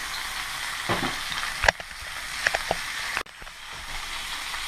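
Roast beef seasoned with pepper and Creole seasoning browns in a hot pan, a steady close sizzle and hiss with a few louder pops and scrapes.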